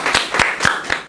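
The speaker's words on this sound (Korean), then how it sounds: "잘했다. 박수 한 번." A brief round of clapping at a middle-school debate contest: four distinct, evenly spaced claps, loud and close, ending abruptly after about a second.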